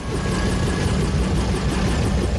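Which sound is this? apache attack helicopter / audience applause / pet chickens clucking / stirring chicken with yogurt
apache attack helicopter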